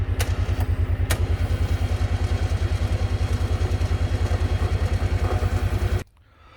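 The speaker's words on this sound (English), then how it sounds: "Hear how easy that old carburetor starts up." A small carbureted engine on a 2008 Kawasaki Mule Trans 4x4 utility vehicle idles with a steady, rapid chugging pulse, loud and close, running alone for about six seconds before cutting out abruptly.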